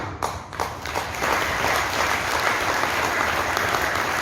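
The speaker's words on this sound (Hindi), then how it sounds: "सब लोग तालियां तालियां बजाते हैं।" An audience breaks into applause at an insurance sales seminar, a few scattered claps first, then dense, sustained clapping from a large crowd filling the room.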